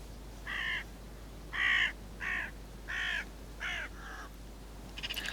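An agitated crow on a hillside caws repeatedly after its mate is shot, six loud harsh calls in an uneven rhythm, fairly close, over steady low background hum.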